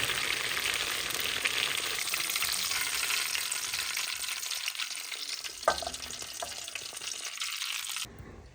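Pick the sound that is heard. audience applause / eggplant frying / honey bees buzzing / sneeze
eggplant frying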